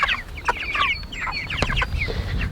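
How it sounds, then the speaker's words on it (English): Cornish cross chickens cluck and chatter nearby in a farm setting, with several overlapping calls in a busy, continuous stream. "You can tell when the chickens are hot, their mouth it stays open."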